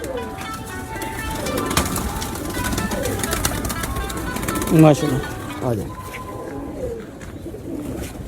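Pure breeder pigeons coo in soft repeated phrases, with a louder burst near the middle, while someone talks over them throughout.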